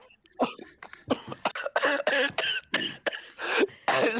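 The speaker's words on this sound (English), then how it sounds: "is actually coughing now." Someone speaks in short bursts, mixed with what sounds like a cough, close to the microphone.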